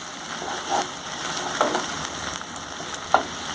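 Garlic, ginger and green chili paste stirred into a frying pan while making Golbari-style chicken kosha, a continuous low sizzle broken by a few light clinks of a spoon against the pan, close up, without speech.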